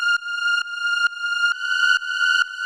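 A dry techno synth in a warehouse-techno style, with no chorus, echo or reverb, plays clean pitched tones pulsing in a steady, evenly spaced rhythm, loud and alone.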